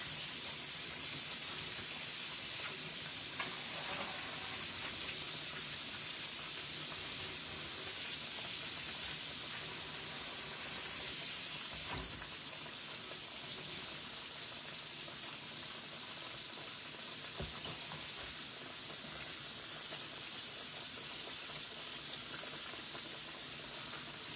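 Pork chops fry in a pan with a steady, close hiss and sizzle that holds for the whole stretch, with only faint scattered pops and crackles in the background.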